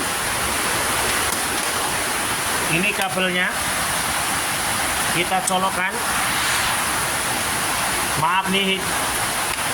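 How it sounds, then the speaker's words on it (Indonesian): Rain falls steadily in a constant, even hiss while someone speaks in short bursts over it. "lagi hujan"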